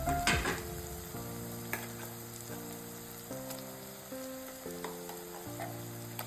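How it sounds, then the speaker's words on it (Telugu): Mushroom curry masala frying in a pan, a quiet continuous sizzle with a few soft stirring clicks under a steady held musical tone, no speech. "ఫస్ట్ ఈ మసాలాని ఇలాగే ఈ మొత్తం కూడా ఫ్రై చేద్దాం"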